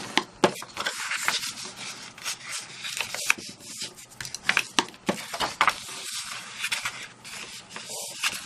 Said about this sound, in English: just give this a fold and burnish